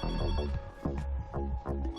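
A telephone rings with repeated electronic trills in quick bursts, close and clear, with no talk over it.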